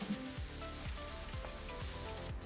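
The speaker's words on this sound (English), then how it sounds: "I like the garlic when it's been a little bit roasted in the pan." Garlic sizzling in a frying pan while being stirred: a steady close hiss with a few soft scrapes of the spoon at regular intervals, no voices.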